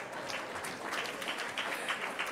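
Audience clapping and applauding at a business luncheon, a steady dense patter of many hands filling the room at moderate level without a break.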